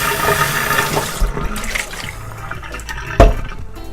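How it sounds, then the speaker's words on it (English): Brown dye liquid poured out of a bowl into a sink, a continuous splashing pour that tapers off, followed by a sharp clunk near the end. "So what I'm going to do is dump out this brown dye."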